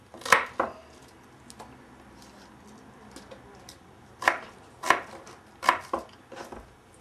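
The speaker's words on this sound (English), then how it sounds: "our Brussels sprouts are all chopped up" Brussels sprouts are chopped with a knife, giving a few sharp board knocks: two near the start, then a cluster of four or five later, over a quiet room with faint bird calls.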